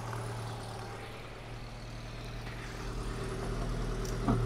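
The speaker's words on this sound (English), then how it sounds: "that middle exhaust is starting to blow quite a bit" Citroen with a hydropneumatic suspension raised on a jack runs at idle, a faint steady low engine drone with a blowing middle exhaust, quiet and continuous throughout.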